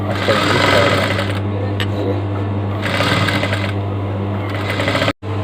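A sewing machine hums steadily and loudly up close as it stitches the lining of a coat sleeve, with brief pauses and a short stop near the end.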